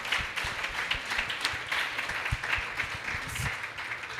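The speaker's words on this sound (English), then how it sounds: "a warm round of an applause" Audience applause at a campus book discussion event, a steady patter of many hands clapping throughout with a few sharper claps standing out.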